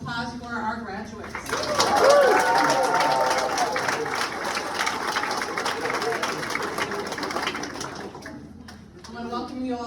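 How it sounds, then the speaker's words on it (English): Applause for nursing graduates at a May 2022 pinning ceremony, a dense steady round of clapping swelling in after a voice and running for several seconds before fading as speech resumes. "One last round of applause for our graduates."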